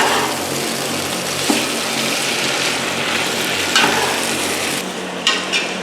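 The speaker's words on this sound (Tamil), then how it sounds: "இப்போ புதினாவை போட்டு வதங்கணும்." Mint leaves sautéing in a hot oiled pan for chicken biryani, giving a steady loud sizzle throughout with a few scrapes and stirring clinks near the end.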